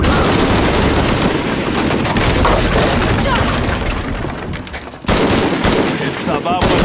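Intense combat gunfire in Shadow of the Tomb Raider, a loud nonstop mix of rapid shots and booming impacts with a brief dip near the end before the barrage resumes, voices likely shouting underneath.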